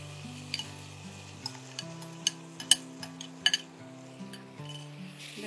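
Malabar spinach stems and fish innards fry in a cooked-down spice paste, a steady sizzle punctuated by a run of sharp spatula scrapes and clinks against the pan, close and without speech.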